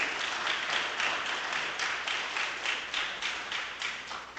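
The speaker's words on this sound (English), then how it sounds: "Give them a round of applause, please." At a youth tribunal event, the audience gives a round of applause for the speakers, a steady, moderately quiet patter of many hands clapping with a faint pulsing rhythm.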